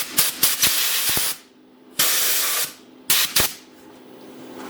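A compressed air nozzle in a small lathe workshop blows in three loud hissing bursts, each about a second long, separated by brief quieter gaps and sharp clicks.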